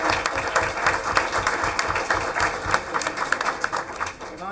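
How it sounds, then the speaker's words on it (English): A crowd at a school district board meeting gives a steady round of applause, the clapping dense and fairly loud throughout with faint voices mixed in. "give her a big round of applause"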